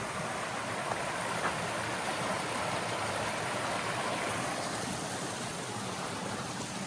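A creek at Clarendon Gorge flows with a steady, even rushing hiss, close and continuous, with no talking over it.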